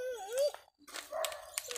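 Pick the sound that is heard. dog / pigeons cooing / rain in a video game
dog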